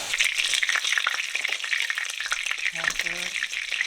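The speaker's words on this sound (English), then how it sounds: "So I'll let that cook, and if it's good, I'll fry the rest up." Italian meatballs fry in a pan with a steady, crackling sizzle throughout, close and fairly loud, while a brief low tonal sound near the end cuts in over the frying.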